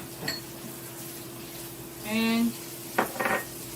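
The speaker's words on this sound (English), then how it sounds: "we're going to stir this all up and mix it all up together" Pineapple rice with cilantro being stirred in a pan, a short scraping clatter of utensil on metal followed by a couple of brief knocks, close and fairly quiet, with a low steady hum behind and one spoken word.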